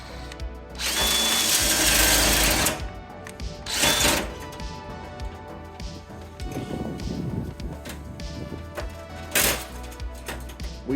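Power drill chewing through metal rivets on a scavenged PC case with the wrong bit, long loud whining runs broken by pauses full of scraping, clattering metal and handling noises, close by.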